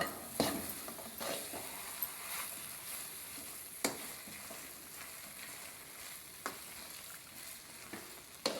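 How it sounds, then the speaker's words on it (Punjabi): Grated carrots being stirred in a pan while cooking down for carrot barfi: steady scraping and stirring with a soft sizzle, broken by a few sharp utensil knocks against the pan, with no talking. "ਜਿਹੜੀਆਂ ਗਾਜਰਾਂ ਨੇ ਐਡ ਕਰ ਦਿੱਤੀਆਂ ਨੇ ਹੁਣ ਆਪਾਂ ਇਹਨੂੰ ਚੰਗੀ ਤਰ੍ਹਾਂ ਹਲਾਵਾਂਗੇ"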